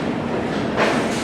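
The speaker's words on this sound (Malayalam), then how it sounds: "വാപ്പ് 7 എൻജിനാണ്" A passenger train between Trivandrum and Ernakulam, hauled by a WAP-7 electric locomotive from the Lallaguda shed, rumbles past with rolling wheel noise that swells briefly midway.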